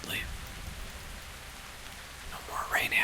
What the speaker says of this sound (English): No more rain ambience.